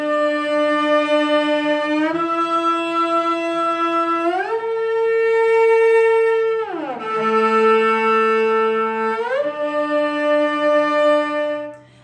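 Sustained violin octave double stops, one long bowed whole note per bar, moving stepwise up and then down through several pitches, played loud and close with smooth slides between notes.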